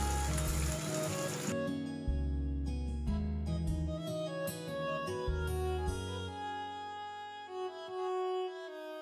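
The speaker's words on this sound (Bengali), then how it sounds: "আর দিচ্ছি আস্ত জিরা দিচ্ছি। তো এবার আমি এগুলো সাথে কিছুক্ষণের জন্য ভেজে নিব।" Whole cumin seeds and torn cardamom hit hot oil in a pan for chickpea bhuna, giving a brief loud burst of sizzling that quickly fades to a quieter crackle under background music.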